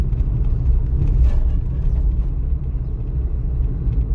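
Car driving in third gear at 40 km/h and about 1600 rpm, a steady low engine rumble heard from inside the cabin, continuous and moderately loud.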